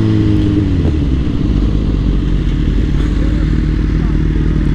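A Suzuki GSX-R1000 sportbike is ridden with its engine droning loud and steady at close range, mixed with rushing wind, with no talk.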